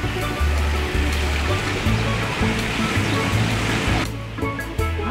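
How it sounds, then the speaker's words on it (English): Waterfall in a game-like treasure setting, a constant rushing wash of falling water that stays loud and steady throughout, with a brief dip near the end and faint voices underneath. "There is like a waterfall here, next to the treasure."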